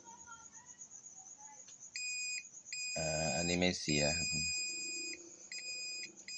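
A multimeter continuity tester beeps while checking the coil of a Total rotary drill that will not start. A steady high tone sounds on and off in sustained stretches, and someone speaks briefly over it.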